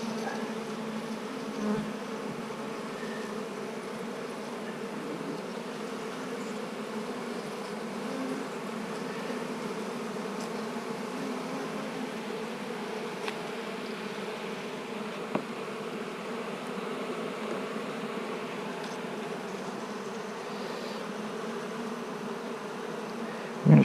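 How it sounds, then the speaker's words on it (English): Honey bees in an open hive during an inspection make a dense, continuous buzzing drone, steady and close, with a few faint clicks and knocks underneath. "I'm going to shake these bees out"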